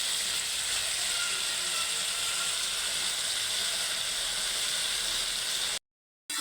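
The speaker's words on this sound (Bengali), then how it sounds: "তো আমি যেভাবে ভুনা করতেছি শুটকি সেটা আপনাদের দেখাইতেছি।" Dried fish frying in a pan for bhuna, a steady loud crackling sizzle with bright hiss that runs almost the whole time before cutting out abruptly near the end; no one speaks.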